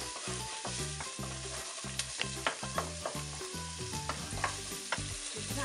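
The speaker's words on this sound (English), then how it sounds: "Then saute our onions and pancetta or bacon." Onions and pancetta or bacon sautéing in a pot for a Namibian bean stew, a steady close sizzle broken by frequent scraping stirs and light clinks of a utensil, with no voices.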